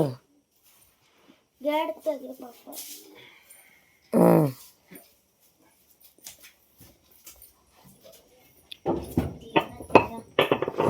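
A dog whimpers and yelps in short, scattered bursts with quiet gaps between them, then voices and busier noise take over near the end.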